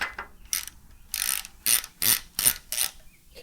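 A ratchet clicks in short rapid bursts while loosening flange bolts on a Harley Sportster, with several close, crisp runs of pawl ticks separated by brief pauses.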